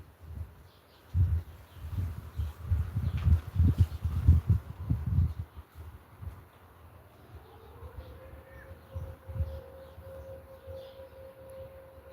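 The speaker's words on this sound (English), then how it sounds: "There's a town siren." A distant town civil defense siren in Portugal rises and holds a steady wailing tone in the background after a stretch of rustling and low thumping noises.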